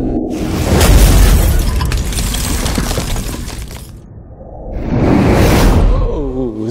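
A whoosh-and-boom transition effect: a loud crashing swoosh with a shattering burst, a brief dip, then a second rushing sweep that swells back up and trails off with a warbling tail.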